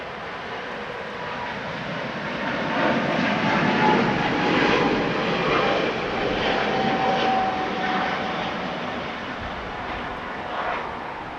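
A Philippine Airlines Boeing 777 jet takes off at LAX, its engines giving a steady, loud broadband roar that swells slightly midway and holds through the whole stretch, with no talking.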